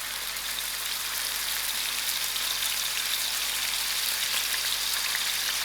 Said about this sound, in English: my oil is heating up